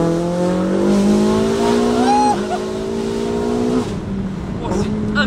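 Tuned 800 hp Ferrari 488 GTB pulling hard with exhaust valves open, a loud, close, rising engine roar that climbs through gears with a brief shift dip, steady and continuous throughout.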